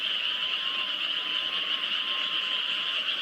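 A loud, unbroken wall of frog croaking from a large chorus, constant and droning throughout, with no voices.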